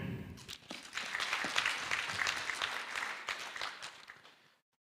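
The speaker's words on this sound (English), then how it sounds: "Let's applaud them." An audience at a Pan-African cultural event at Lukenya University applauds, a moderately distant wash of clapping that swells, holds for a few seconds and then fades out.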